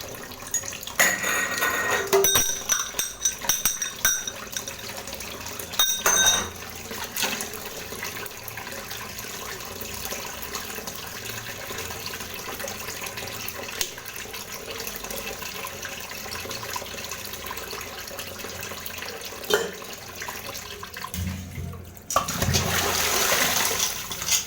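Tamarind is washed at a sink: running water splashes and gurgles continuously at moderate level, with clinks and handling noises and a louder gush near the end.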